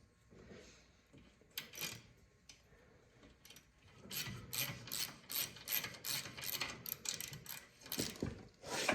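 A ratchet wrench works a tight bolt on a rear tine tiller, rapid clicking bursts repeating back and forth, sparse at first then dense and continuous through the second half, close and fairly quiet.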